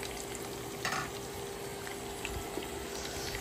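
Sliced onions frying in a pan with whole garam masala spices, a steady close sizzle with occasional stirring scrapes and small pops over a continuous hiss.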